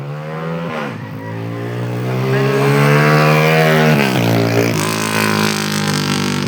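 Motorcycles speed along a smooth, freshly paved road, their loud engine drone rising and falling in pitch as they rev and pass close by, with no talking.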